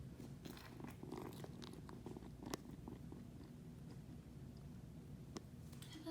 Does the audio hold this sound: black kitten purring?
yes